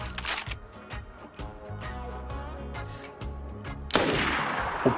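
Rifle shots from a 7.62x54 weapon in the video game DayZ, a run of sharp, rapid reports against steady game background sound, with a louder burst near the end.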